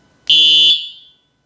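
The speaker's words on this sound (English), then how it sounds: "That's a buzzer, I guess." A loud, steady buzzer tone from an electric whistle sounds alone for about half a second, then fades out with a lingering high ring.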